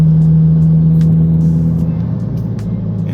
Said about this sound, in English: now that we're going to speed up, I am going to have to shift gears.